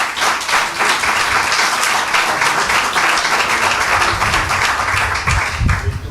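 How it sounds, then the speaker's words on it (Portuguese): Church congregation at a worship retreat applauds loudly, a thick continuous wash of clapping hands up close with a few scattered louder claps and low rumbles near the end. "Aplauda ao Senhor."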